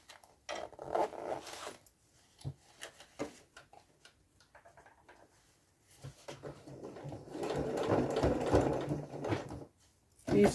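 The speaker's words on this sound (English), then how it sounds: "So now we're going to sew over these plastic ends." A sewing machine stitches over plastic zipper ends in short, uneven bursts of whirring and clicking, close and moderately loud, with a longer sustained run of stitching near the end.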